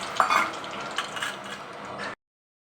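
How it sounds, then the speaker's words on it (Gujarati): Sliced potato chips for sweet fasting chips frying in a pan of smoking-hot oil, a dense, steady close-up sizzle lasting about two seconds before cutting off abruptly, with no talk. "હવે આ તેલમાં જો ધુવાડા નીકળવા માંડ્યા છે ને આ બધી તળી લેશું આપણે"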